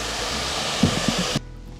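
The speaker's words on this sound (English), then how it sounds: "Now we're gonna use the blow dryer" A hair dryer blowing on a client's hair in a barbershop, a steady loud broadband rush that cuts off abruptly just before the end, leaving near silence.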